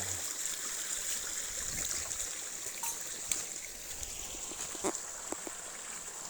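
Steady hiss of running water flowing nearby, with a few faint clicks and knocks in the background.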